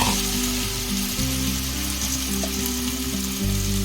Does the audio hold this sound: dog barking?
no